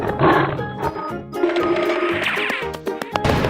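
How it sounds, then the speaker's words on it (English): A loud, close tiger roar from a game's animal sound effect, dense and rumbling with overlapping effects, lasting a few seconds. "Tiger."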